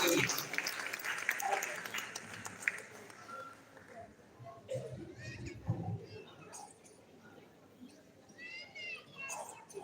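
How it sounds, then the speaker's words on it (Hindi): Audience applause for a comic poet at a Hindi humour poetry gathering, a burst of clapping that thins after a few seconds as voices and scattered sounds take over. "जोरदार तालियों के बीच"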